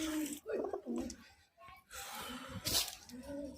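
High-flying tumbler pigeons give soft, throaty coos close by in short bursts, mixed with a person talking.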